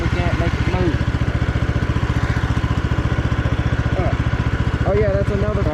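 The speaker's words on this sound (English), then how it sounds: "I don't know if you can hear me, but the tractor is on now" A small Troy-Bilt Bronco lawn tractor engine chugs steadily with a rapid, even putter close by, while people talk over it now and then.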